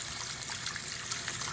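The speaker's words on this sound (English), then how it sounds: "we're gonna run some water." Warm tap water runs steadily into a sink, a continuous close splashing trickle with no other sounds.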